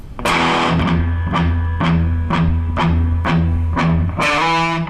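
Distorted electric guitar plays a section of a riff, chugging the open low string repeatedly in a steady driving rhythm with power-chord accents. Loud, close and crunchy, ending on a ringing chord.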